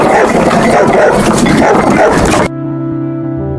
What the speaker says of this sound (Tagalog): Rawi, may aso!